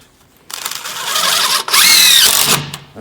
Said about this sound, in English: Screw gun and some screws.